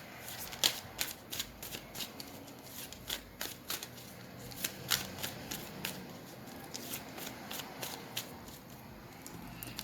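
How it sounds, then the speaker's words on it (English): Tarot cards being shuffled and pulled from the deck, a run of quick crisp riffles and papery flicks in irregular bursts, close and fairly quiet, with no talking over them. "Let me pull some tarot cards."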